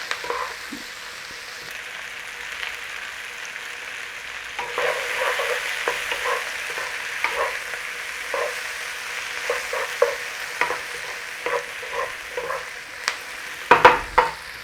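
Sausage and mushroom hash sizzles steadily in a frying pan while it is stirred and turned, with close scraping and clinking spread through the fry.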